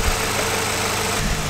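A wrecked Audi S3 engine idles steadily at a low rumble, smooth and continuous with a faint mechanical hum throughout and no speech.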